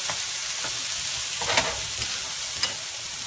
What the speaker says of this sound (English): now we're going to add the peppers and zucchini and saute that with the garlic and onion